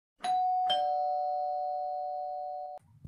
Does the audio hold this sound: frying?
no